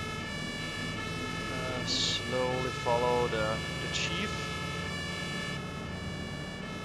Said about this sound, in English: Just gonna cut on the siren just to avoid traffic and warn them that we're coming.